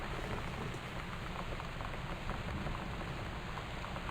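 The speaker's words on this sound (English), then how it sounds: "It's raining merrily out there." Steady rain falling outside, a dense continuous patter on surfaces that stays even and fairly close throughout with no voices.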